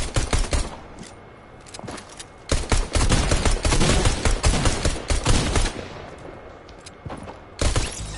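Rapid automatic gunfire in a shooter video game, loud dense bursts with short gaps between volleys, close and dominant with no talk over it.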